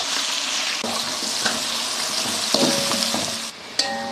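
Three-quarters of a kilo of onions hitting hot oil with spices such as cinnamon, cloves and cardamom for biryani, giving a loud, steady sizzle with a few stirring clanks and scrapes throughout.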